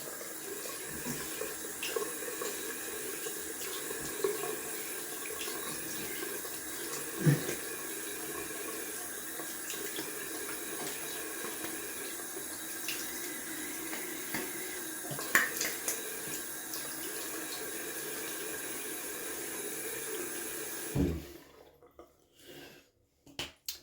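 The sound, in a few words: cold water running from a tap while shaving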